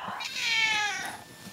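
A house cat gives one drawn-out, rising and falling meow, fairly close and clear against a quiet indoor room.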